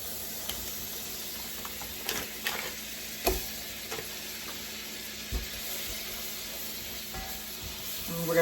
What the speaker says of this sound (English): So we're gonna go ahead and throw in our butter.